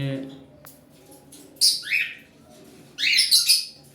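Tame pet birds give two bursts of harsh, close squawks, each a quick cluster of shrill calls, over a quiet room with a low murmur beneath.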